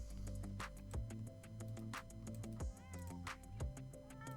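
A small cat meows several times in The Sims 4, short rising calls over light background music.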